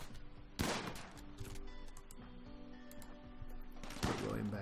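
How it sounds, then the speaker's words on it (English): A shotgun fires twice in RimWorld combat, the two sharp blasts spaced a few seconds apart over a faint background hum and tones. "Phoebe, you're firing with the shotgun"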